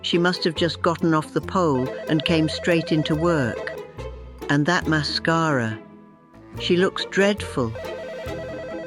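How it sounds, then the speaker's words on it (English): A telephone rings repeatedly in an indoor setting, its bell tones running beneath a woman's continuous, animated talking. "Yes, that's the phone ringing"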